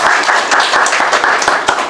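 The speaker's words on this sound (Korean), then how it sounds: "우리 질문해 주신 분께 박수 한번 드리도록 하겠습니다." Loud audience applause at a Christian talk event, dense overlapping hand claps filling the short stretch with no talk over it.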